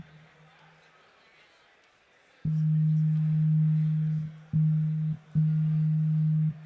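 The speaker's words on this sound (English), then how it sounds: "So that's a sine wave" A pure sine wave oscillator tone from the Wavesequencer Hyperion modular software synth sounds in three sustained, steady notes, the first longest and the others shorter with brief gaps between them, after a quiet start.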